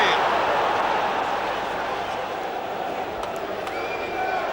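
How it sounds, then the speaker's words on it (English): A football crowd at a 1993/94 Coventry City versus Arsenal match roars and jeers to put off a penalty taker, a dense, continuous wash of voices that swells and dips slightly throughout. "the crowd trying to put off Mickey Quinn."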